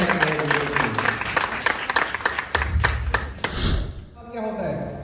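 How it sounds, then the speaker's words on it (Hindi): Audience members at a sales and team building training in a hotel clap in a brisk burst of distinct hand claps for about three seconds, then it breaks off as voices and room noise take over. "तो एक बार जोरदार तालियां हो जाए।"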